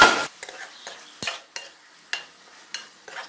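A spoon stirs chicken in hot oil in a cooking pot for a chicken malai handi, giving a sizzle with repeated scraping strokes against the metal at an irregular rhythm, close by and with no talk.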